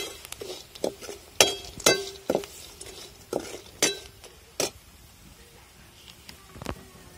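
A spoon scrapes and clinks against a pan while dal vada pieces are stir-fried in onion masala, with a soft sizzle underneath and irregular sharp metallic taps, close and without speech.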